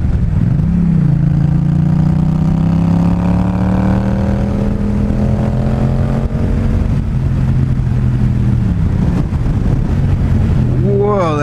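A Yamaha FZ-07 with a Two Brothers full exhaust system rides under heavy wind noise, its engine tone steady and then falling as it brakes on deceleration, with a rider's voice heard near the end.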